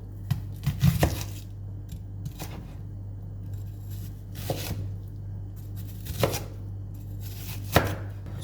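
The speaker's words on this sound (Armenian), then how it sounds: "Միսը մանրացրեցի, իսկ հիմա կտեղավորեմ կտրատող հարիչի մեջ։" A food chopper minces chicken meat and onion in a kitchen, with several sharp chopping bursts spaced apart over a steady low hum, close and fairly loud.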